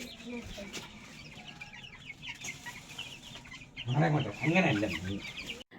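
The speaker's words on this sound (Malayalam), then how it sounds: "അങ്ങനെ കോഴിക്കുഞ്ഞിനെ നമ്മൾ സെറ്റാക്കി കൂട്ടിനകത്താക്കിയിട്ടുണ്ട്" Chicks clucking inside their cage, with a louder burst of repeated clucks and cheeps near the end over a steady background.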